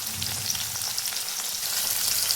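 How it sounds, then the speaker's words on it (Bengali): Pieces of katla fish frying in hot oil give a continuous, dense crackling sizzle at close range, fairly even in loudness throughout, with no talking. "মাছের দুটো পাশই আমি এখন ভালো মতন ভেজে নেব।"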